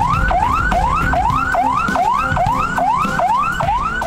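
An ambulance siren wails on a road in Klaten, Central Java, its rising sweep repeating about every half second, loud and continuous over steady traffic rumble.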